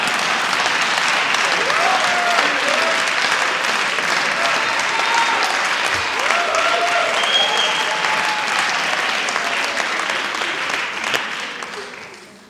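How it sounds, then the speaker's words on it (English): Sustained audience applause fills a hall at a university inaugural lecture, a dense, steady wash of many hands clapping at close range that holds for about twelve seconds before tapering off at the end, with faint voices mixed beneath. "So please clap for me."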